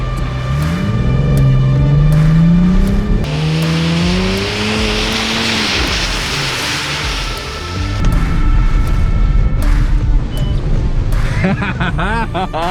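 A 450 hp Audi RS5 engine revs loudly as it reverses and swings around in snow, rising and falling in pitch, with tire noise and gravelly rumble close by.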